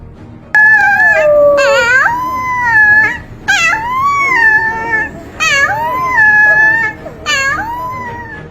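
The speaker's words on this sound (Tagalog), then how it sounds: "Ito naman ang alulong ng maliit na lobo." A young wolf howls in a series of wavering, high-pitched cries, each rising and falling, several in a row with short breaks between, close and loud.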